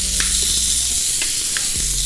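Steaks sizzle loudly and steadily in a hot pan while being flipped for a steak sandwich, with a few soft clanks and thumps from the pan and utensils over the constant hiss.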